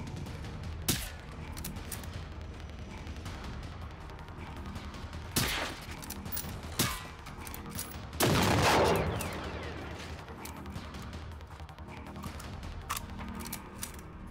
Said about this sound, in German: Ich schieße ihm die Augen aus.